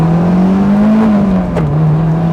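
A Honda S2000, imported right-hand-drive JDM, engine held at high revs on the road while trying to reach VTEC, a loud steady whine that climbs slightly, then dips and levels off.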